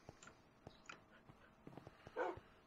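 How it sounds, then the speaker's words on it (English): Puppies in the Minecraft modpack Sky Factory 3 give faint, scattered little yips and barks, with a slightly louder whimpering cry near the end. "Puppies!"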